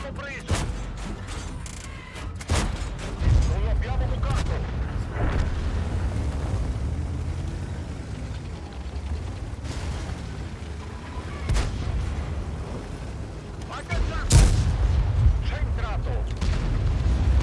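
Heavy tank cannon fire from the Progetto 46 in a video game, several loud booming shots with sharp onsets spread across the stretch, with continuous battle rumble and engine noise between them.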